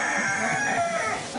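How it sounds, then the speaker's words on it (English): A rooster crows in a single loud, sustained call that holds steady and fades only slightly at the end, heard alone without talk. "If that rooster crows one more time"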